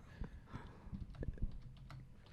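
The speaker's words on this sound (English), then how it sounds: "I'm typing in." Quiet, irregular tapping of keys on a computer keyboard, a few quick strokes in short bursts, close by with no talking over it.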